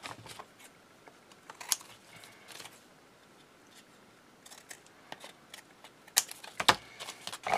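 Scissors trim a paper card, a series of quiet, crisp snips and light handling clicks that come in small clusters and grow busier toward the end.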